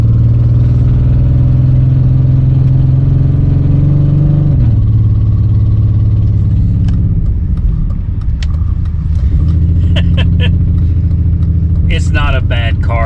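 A mistreated car with a horrible exhaust idles loudly, its deep droning rumble dipping in pitch partway through, then continuing steady with scattered clicks and rattles toward the end.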